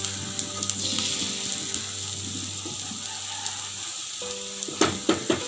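Onion ragi dosa batter sizzles on a hot pan with a constant soft hiss beneath a low tonal background hum. A few sharp clatters come near the end.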